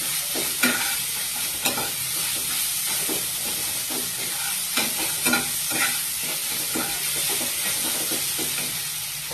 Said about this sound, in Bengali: নুন হলুদ গুঁড়ো দিয়ে ভালো করে নাড়তে হবে, মশলাটা ভালো করে কষাতে হবে।